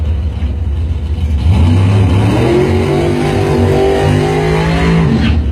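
Drag racing cars at a bracket race, including a 2000 Mustang, launch and accelerate hard down the strip, a loud, rising engine roar that builds for several seconds and then cuts off abruptly.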